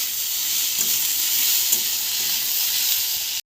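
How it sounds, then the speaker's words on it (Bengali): Chopped potatoes sizzle in a pan for egg chow mein, a steady, loud, hissing fry that runs unbroken and cuts off abruptly at the end. "ভালোভাবে ভেজে নেব।"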